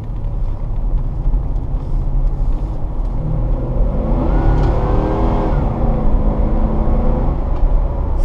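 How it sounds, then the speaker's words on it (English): A GMC Suburban engine rumbles steadily inside the SUV, then accelerates with a rising hum as the transmission shifts without hesitation, swelling and settling into a smooth cruise. "Full acceleration right there."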